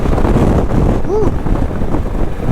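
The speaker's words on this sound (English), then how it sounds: "Bit of wind." Steady broadband wind rush buffeting the microphone throughout, with a brief high whistling tone in the middle.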